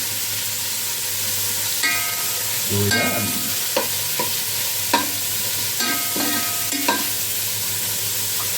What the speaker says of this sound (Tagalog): Maingay ating kaldero